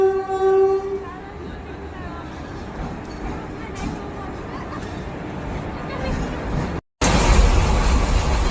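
A train pulls into Rajkot station, its horn blaring in a long tonal blast at the start before giving way to the steady rumble and clatter of rolling carriages, with crowd babble around and a sudden cut to louder noise.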